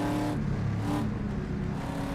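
A racing car engine in the rFactor racing game drones steadily at high revs, loud and continuous with no pauses.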